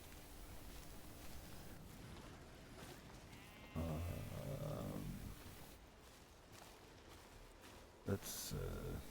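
Goats bleat in the mountain-climbing video game Cairn, with a clear, close bleat in the middle and a shorter call near the end over a soft windy ambience, while someone talks quietly.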